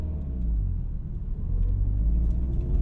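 A 2005 Subaru WRX STi with an EJ207 boxer engine pulls away, heard as a steady, deep, low rumble that swells slightly as it moves off.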